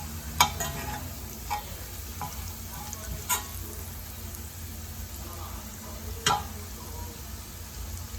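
Dal makhni cooking in a pan gives a continuous, fairly close frying hiss broken by several sharp clicks and scrapes of stirring.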